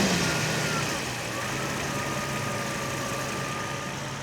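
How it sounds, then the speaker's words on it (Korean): A 1990s Mercedes-Benz S600 with a V12 engine idles, giving a smooth, steady low hum with a faint constant tone and no revving, heard close and even throughout. "엔진음을 들으셔야 돼요"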